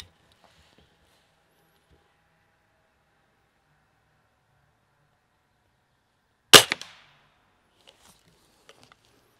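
A single sharp Cometa Fenix 400 air rifle shot cracks out after a long quiet stretch, followed by faint small clicks and ticks.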